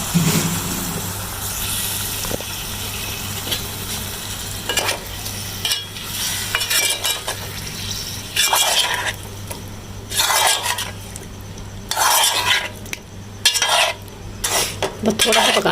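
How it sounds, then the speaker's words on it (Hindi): A spoon scrapes and clatters in a pan as boiled potatoes are stirred into spiced masala with tamarind in hot oil for aloo chaat, making repeated metallic scrapes over a faint background hum, with no talking. "ये आलू इसके अंदर ही देंगे और अब हम इन्हें मिक्स कर देंगे।"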